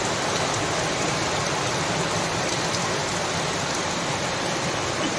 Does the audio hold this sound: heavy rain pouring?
yes